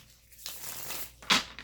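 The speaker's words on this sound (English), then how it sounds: "One more shuffle." Tarot cards shuffled by hand in a few quick, papery bursts of riffling and sliding, the loudest flutter near the end, close and fairly quiet.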